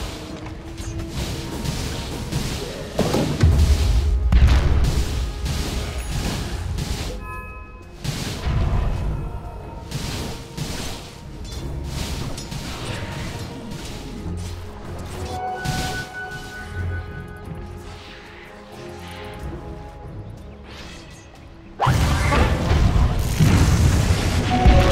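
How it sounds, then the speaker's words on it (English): Repeated booms and crashing impacts from a Dota 2 match as the Dire top tower comes under attack, loud and continuous for about twenty-five seconds, with mechanical clanks and a heavy burst near the end. "Dire's top tower is under attack."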